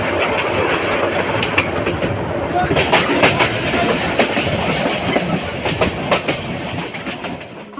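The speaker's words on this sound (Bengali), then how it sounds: "মুহূর্তে ট্রেনটি পার করলো শ্রীপুর স্টেশন" The Teesta Express runs on the rails from Dhaka toward Dewanganj past Sreepur station, with a loud, steady roar and rhythmic clickety-clack of wheels over rail joints heard from on board.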